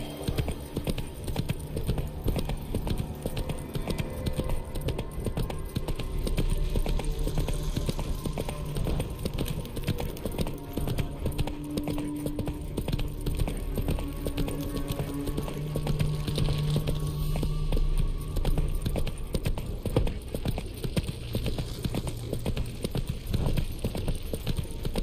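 Horse hooves gallop in The Witcher 3: Wild Hunt on PS5, a steady, continuous clip-clop running under the game's ambient sound for the whole stretch.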